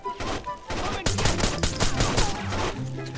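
Rapid gunfire from the video game Rainbow Six Vegas 2 fills the moment with dense bursts of automatic shots and sharp reports, loud and continuous.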